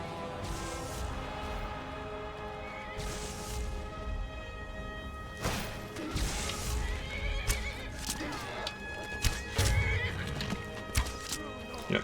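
A horse in the video game Skyrim neighs loudly and repeatedly, with clip-clopping hooves and splashing or crashing game sounds around it, close and prominent throughout.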